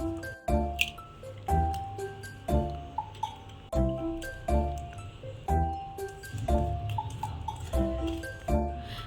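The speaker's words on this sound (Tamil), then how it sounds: "இதில் இப்போ நம்ம 2 முட்டை ஆட் பண்ணணும்." Two eggs go into cake batter, heard as a run of wet squishy plops, taps and clinks repeating roughly once a second, close and fairly loud, with no talk.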